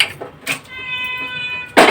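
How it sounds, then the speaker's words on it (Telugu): A house cat meows a few times, with short close cries and a brief squeal at the end over faint kitchen background hum. "మా పిల్లి తెగ అల్లరి చేసేస్తుందండి."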